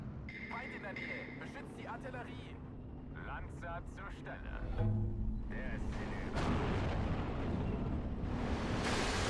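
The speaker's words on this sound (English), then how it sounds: "Just gonna mortar that area, or pin that down" Mortar barrage in Steel Division 2 booms and rumbles through the second half, a dense roll of blasts building in loudness, with a voice talking over game noise before it.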